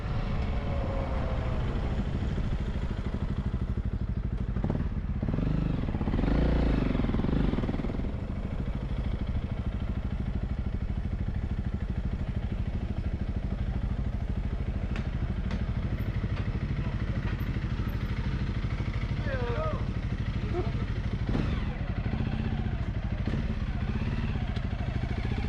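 A pack of motorcycles riding together in Portugal's Serra da Estrela mountains, a steady engine drone and road rumble that swells briefly, with faint rattles and passing revs through the whole stretch.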